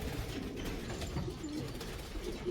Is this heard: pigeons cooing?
yes